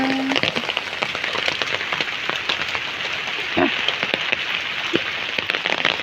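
Steady, dense rain patters on a surface nearby, a constant hiss with scattered sharper drops and a brief faint voice.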